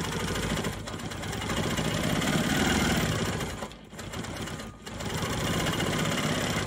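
A Quilt Maker Pro 20 quilting machine stitches circular motifs into fabric, a steady close, continuous mechanical whir with two brief dips in speed, no talking.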